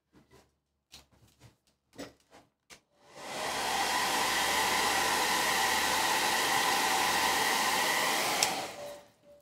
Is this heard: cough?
no